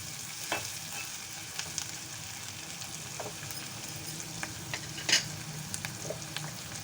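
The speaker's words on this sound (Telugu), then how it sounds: "ఇలా సిమ్ మీద పెట్టుకొని ఇది మెల్లగా గోరాలి" Tomato kurma is stirred slowly in a pan over a low flame, a soft constant sizzle with occasional scraping and clinks of the spoon against the pan, close up, no voices.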